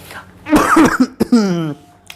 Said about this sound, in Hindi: खांसी मुझे आ गई।